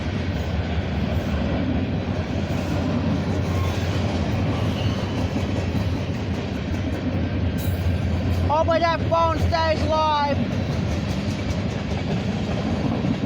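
A CSX mixed manifest freight train heads east past Beaver Falls, Pennsylvania, its steady rumble and clickety-clack of wagons rolling nearby throughout, with a sharp squeal of wheels midway and someone speaking briefly over the noise.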